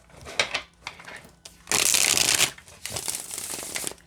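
Avisomnia tarot cards being shuffled, a flexible deck of thin cardstock, give close rustling riffles and flicks, with one long, loud burst in the middle and a softer run of shuffling after it.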